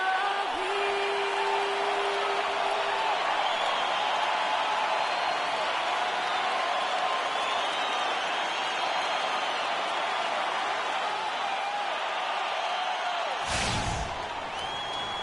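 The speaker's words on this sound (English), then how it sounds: "We've got an electric crowd here at Toronto's Air Canada Centre." Arena crowd noise from an NBA 2K basketball game set in Toronto's Air Canada Centre, a steady loud wash of cheering and roar holding throughout, with a sharp thud near the end.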